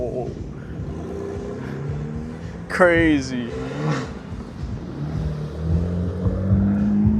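At a car meet, a car passes with a loud engine rev that climbs and then fades over about a second, while people talk nearby.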